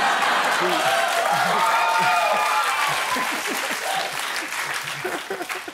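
Studio audience at a Jimmy Kimmel interview with Kanye West breaking into loud, dense applause that slowly thins out, with a voice talking underneath toward the end.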